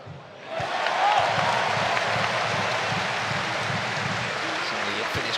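Crowd noise at a FIBA EuroBasket 2017 basketball game between France and Finland as the second half begins: a broad wash of cheering and applause swells in after a quiet start and holds steady, with talk faintly beneath it.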